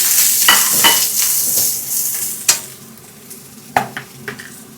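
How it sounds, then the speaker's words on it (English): Onion, spring onion, celery and chili hit hot oil in a high-heat wok, giving a loud, steady sizzle with scraping stirs and a few sharp clanks of the utensil against the pan. "Two tablespoons of cooking oil into a high heat wok. In with your onion, spring onion, celery"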